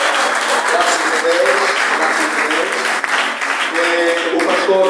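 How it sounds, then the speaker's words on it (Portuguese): A church congregation in Angola breaks into sustained, loud applause, a dense and steady wash of clapping that fills the room with a few voices under it. "Salva de palmas para Jesus."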